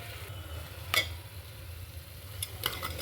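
Masala for okra curry is stirred in a pan: a faint, soft scraping bed with a couple of sharp utensil clinks against the pan, close by, with no talking.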